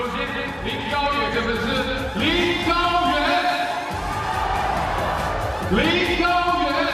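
Spectators at a World Table Tennis match in Macao shouting and chanting for Lin Gaoyan, with loud, sustained crowd calls in rising and falling waves. A commentator talks over them.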